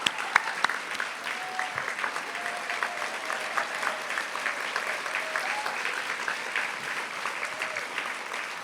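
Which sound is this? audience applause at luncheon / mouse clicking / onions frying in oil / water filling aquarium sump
audience applause at luncheon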